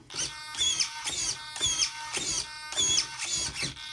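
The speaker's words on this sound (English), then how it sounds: "It's definitely louder than the stock servo because, well, that's what digital servos are." A Traxxas high-performance digital RC servo whines and buzzes in repeated short bursts, its pitch rising and falling with each movement, close and fairly loud.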